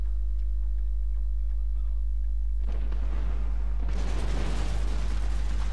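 A matchlock volley from heavy gunner infantry in Total War Shogun 2 cuts through a steady droning background, a dense crackling burst of many shots that swells into a long rumbling roar of gunfire.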